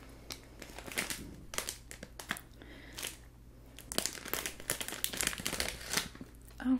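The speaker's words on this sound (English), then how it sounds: "it actually tells you to open them on the side here, like a little zipper" A bag of sour cream potato sticks is torn open along its side zipper strip, with close, crisp crinkling and tearing in irregular bursts of plastic rustle.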